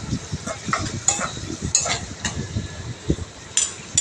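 Tomato pieces stewing in hot oil in a pan while cooking a village-style spinach curry, a soft continuous sizzle with intermittent stirring scrapes and light metallic clinks of a utensil against the pan.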